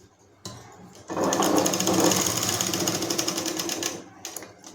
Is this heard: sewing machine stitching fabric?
yes